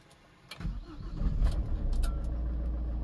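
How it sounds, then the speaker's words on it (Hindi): Mahindra XUV300 car engine cranking and catching at about half a second, then settling into a steady, fairly loud idle rumble close by. "अब गाड़ी को ऑन कर लेते हैं"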